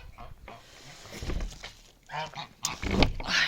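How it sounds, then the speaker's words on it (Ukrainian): Geese honk in short bursts nearby, mixed with rustling and footsteps, while a person talks in between. "Так, гуси ходять."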